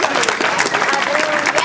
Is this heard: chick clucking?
no